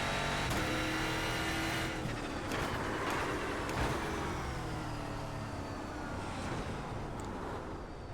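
In the iRacing simulator, a Euro NASCAR V8GP car's V8 drones loudly and steadily down a lap, its pitch rising and falling slightly with a quick shift or lift midway.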